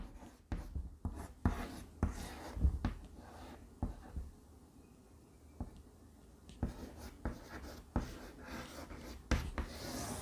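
Chalk or marker writing on a board during a Sanskrit grammar class, a series of quiet scratchy strokes and taps in irregular bursts with pauses, close and without speech.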